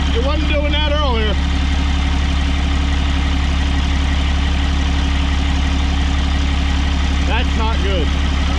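A 4th-gen Cummins diesel drag truck engine idles loudly and steadily up close, its heavy low rumble constant throughout, with people talking over it briefly.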